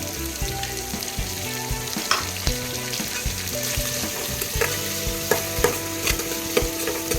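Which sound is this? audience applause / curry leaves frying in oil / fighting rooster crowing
curry leaves frying in oil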